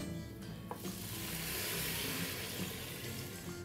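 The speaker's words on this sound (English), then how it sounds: "Add in 300 milliliters of water." Water pours into a pot of rice with a rushing, hissing splash that swells and holds steady for a few seconds, close by and without talk.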